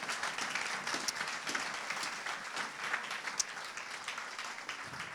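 A church congregation claps steadily throughout, a dense wash of hand claps at moderate distance with a few sharper individual claps standing out, no talk over it.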